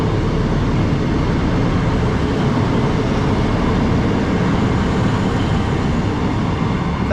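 A Class 150 diesel passenger train on the Rhymney Line rumbles past steadily, a loud, continuous roar of engine and wheels with no pauses throughout.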